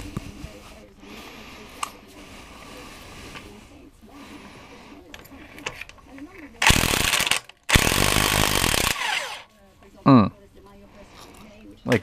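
Wrench breaking loose a 27 mm rear wheel nut on a KLR650 motorcycle, with a couple of loud, harsh bursts of ratcheting and clanking mid-clip after quieter shop noise, a short squeak following.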